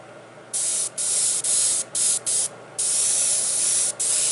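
A Timbertech airbrush sprays in short hissing bursts, about eight separate pulses of varying length, close and fairly loud with quiet gaps between.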